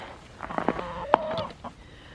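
Chickens cluck outdoors near a small stable on a sunny country day, a few close, irregular clucks and calls, one sharper squawk standing out, with no talk.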